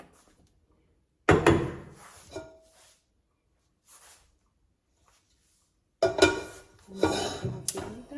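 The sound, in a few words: tall cooking pot being handled with olive oil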